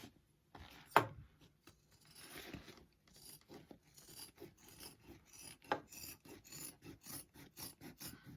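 Bag material being trimmed during shoulder bag construction, a quiet run of short rhythmic rasping cuts with a couple of louder scrapes.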